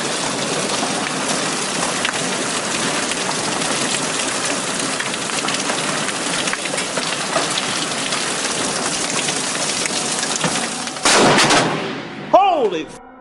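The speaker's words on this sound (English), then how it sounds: "Here's why you should never look down during a hailstorm." Hail pounds down in a dense, continuous hailstorm, a loud hiss of countless hard impacts that suddenly intensifies with a sharp burst near the end before tapering off.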